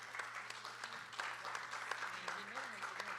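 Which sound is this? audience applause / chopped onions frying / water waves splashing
audience applause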